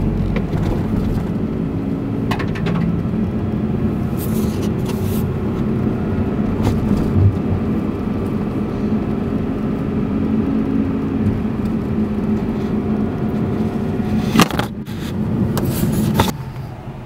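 Car driving along a road, a steady engine and road whir that runs the whole time from inside the vehicle, with a few brief knocks and clatters.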